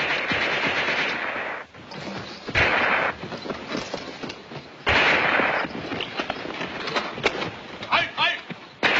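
Heavy gunfire on a World War II battlefield, with loud sustained bursts and rattling automatic fire broken by short lulls, close and harsh throughout, with shouting voices mixed into the din.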